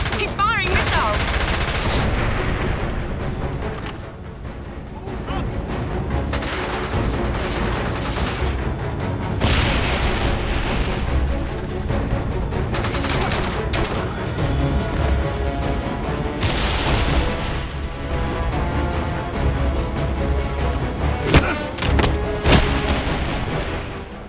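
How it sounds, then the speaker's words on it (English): Missiles firing and exploding in the Siberia level of the James Bond 007: Blood Stone video game, a dense, continuous barrage of loud gunfire-like blasts and booms filling the whole stretch without pause. "James, he's firing missiles."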